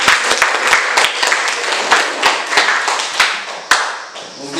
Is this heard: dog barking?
no